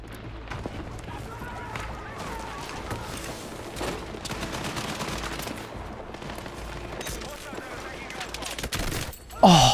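Rapid gunfire from a shooter video game rattles in continuous bursts throughout, with footsteps and scattered impacts mixed in and a sharp louder burst near the end.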